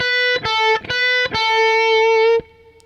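A distorted electric guitar picks a short lick of a few repeated notes without bending, ending on a held note that cuts off.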